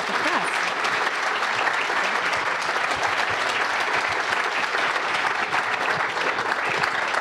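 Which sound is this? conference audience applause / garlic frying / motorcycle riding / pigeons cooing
conference audience applause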